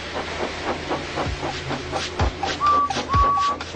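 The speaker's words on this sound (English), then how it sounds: "made lots of steam, and Edward puffed away" Hissing bursts and rhythmic puffs from a steam locomotive, with a couple of short whistle tones toward the end.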